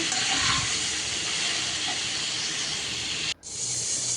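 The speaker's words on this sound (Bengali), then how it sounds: "এখন ফুলকপি আর আলুও ভেজে নিচ্ছে" Cauliflower and potatoes frying in hot oil give a steady, close hiss and sizzle, with a sudden brief drop near the end before the sizzling returns.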